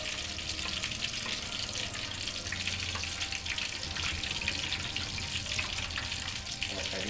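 Phu Tai style pork larb deep-frying in hot oil, a steady dense sizzle and crackle that runs evenly throughout at close range with no talk.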